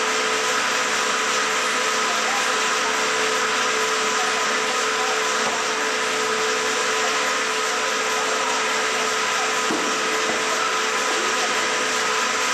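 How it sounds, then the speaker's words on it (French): Pug mill kneading porcelain paste in the mill workshop of the Manufacture de Sèvres, a steady loud mechanical whir and hum running without pause, no voices over it. "Elle refera un tour dans la machine et elle sera malaxée une nouvelle fois."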